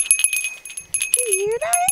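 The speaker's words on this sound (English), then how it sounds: "Is that a bell?" A small bell found in a geocache rings with a bright, sustained tone near the start, partly overlapped by a person's excited voice talking.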